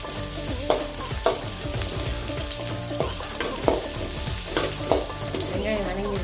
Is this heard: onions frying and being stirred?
yes